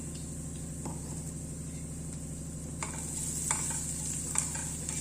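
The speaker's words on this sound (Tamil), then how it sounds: "இதை வந்து கைவிடாமல் கலருங்க" Coconut rice mixture being stirred in a frying pan, with a steady sizzle and scraping of the spoon throughout, close and moderately loud with no talk.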